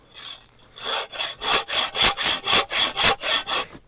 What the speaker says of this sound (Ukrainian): Раз пилкою, раз, раз та й готов